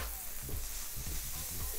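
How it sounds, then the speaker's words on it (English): Burger patties for a triple cheeseburger sear on a barbecue grill, cooking through to well done; a steady hissing sizzle runs the whole brief moment while a voice talks over it. "We are allowing our burgers to sear and cook all the way through."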